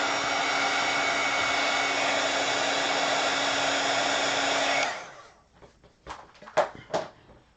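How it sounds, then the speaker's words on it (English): A small heat gun blows a loud steady roar for about five seconds while drying a collage page in an altered book, then cuts off, followed by a few soft handling clunks and taps. "Let me just get my little heat gun real quick. I just want to make sure that that's dry."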